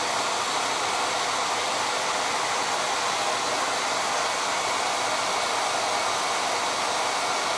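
A hair dryer blows in a steady, loud whooshing hum close by, unbroken from start to finish.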